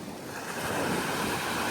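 Sea waves at a beach in Rome make a steady broadband wash, loud and close with some wind rumble on the microphone, no voices over it.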